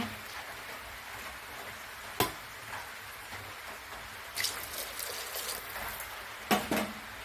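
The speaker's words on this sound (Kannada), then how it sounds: "1 ಲೋಟ ಅಕ್ಕಿಗೆ 2 ಲೋಟ ನೀರನ್ನು ಸೇರಿಸ್ಕೊಳ್ತಾ ಇದ್ದೀನಿ" Water poured onto rice in a pot, a soft continuous trickle and patter close by, broken by a few sharp knocks, no talk.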